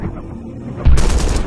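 Movie gunfire from a retro 1990s-set Malayalam rifle-club action film bursts in as a loud, dense volley after a second of low rumbling background sound.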